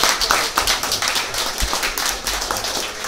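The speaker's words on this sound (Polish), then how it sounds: "Także wielkie brawa zróbcie Państwo sobie wzajemnie" Close, dense applause from an audience at a music box-set promotional evening, many hands clapping steadily and loudly through the whole stretch, with little speech.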